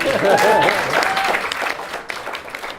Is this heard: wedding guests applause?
yes